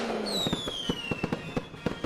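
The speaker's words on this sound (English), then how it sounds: "It's firework time!" Fireworks in a party setting go off in a rapid run of sharp crackling bangs, with a whistling rocket trail sliding downward at the start, fairly loud and with no talk.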